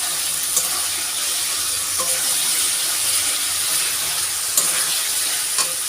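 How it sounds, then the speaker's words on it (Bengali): Fried potatoes stir-fried in spice paste for an egg curry, giving a continuous loud sizzle with a few sharp spatula knocks against the pan, and no talking. "এবার আলুগুলো দিয়ে একটু কষিয়ে নেবো"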